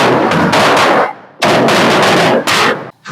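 Diwali firecrackers explode near and very loud in two long, dense volleys of rapid cracking bangs, separated by a short lull, with a final pause before the noise resumes.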